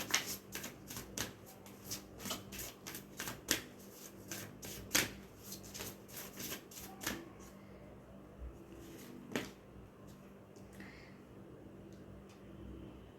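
A deck of tarot cards is shuffled close by, in a quick run of sharp riffling flicks during the first half, then slowing to occasional soft card slaps over a low steady hum.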